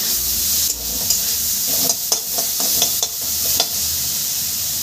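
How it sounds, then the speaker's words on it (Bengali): Ingredients for a sweet-sour jujube pickle sizzle steadily in a pan, a close bright hiss broken by a handful of soft scraping stirs. "একটু সামান্য জাস্ট ভেজে নেব"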